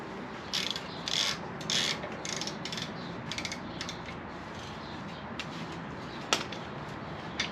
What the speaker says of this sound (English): Go ahead and get this pinch bolt loosened, which holds the shaft of the motor in place.